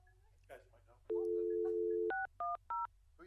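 A touch-tone telephone keypad is dialed at a city council committee meeting: a dial tone, then three quick dial beeps, with people talking softly before and after.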